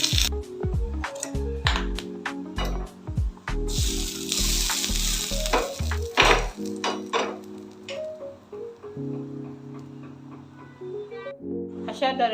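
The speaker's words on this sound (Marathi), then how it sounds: "आता आपण फोडणी देणार आहोत" Mustard seeds and a few curry leaves tempering in a spoonful of hot oil for Gujarati dhokla, giving a crackling sizzle with scattered pops over steady tonal background sound, while a voice talks intermittently.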